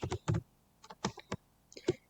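Keys clatter on a computer keyboard as someone hunts for a symbol: irregular, close clicks in short bursts with small gaps between them, and no voice over the typing.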